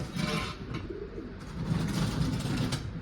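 Soft, low pigeon cooing repeats steadily against a noisy background, close and moderately loud, with no talking.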